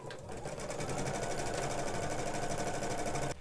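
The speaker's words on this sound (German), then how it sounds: "mit der nächsten Sequenz wird der Stoff festgestickt" An embroidery machine stitching fabric onto an in-the-hoop plush toy, a fast, steady mechanical rattle of needle strokes that runs loud and continuous throughout, with no talking.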